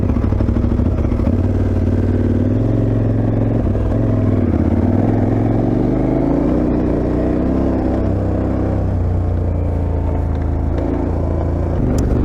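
A KTM 1290 Super Adventure R motorcycle engine rumbles loudly and continuously up close while riding off-road in Germany, its pitch shifting as it accelerates and settles, with wind-like roar throughout.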